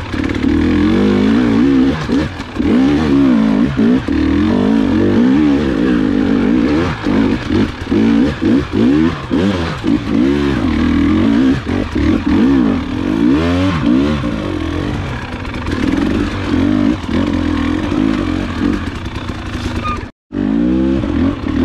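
A 2021 Gas Gas EC300 dirt bike engine revs and burbles continuously on slow technical trail riding, loud and close, with repeated throttle blips rising and falling and a brief cutout near the end.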